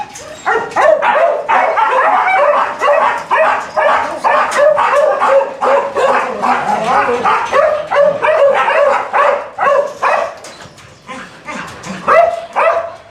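Dogs bark and yip continuously and loudly nearby, a rapid overlapping chorus of sharp barks with some whining mixed in.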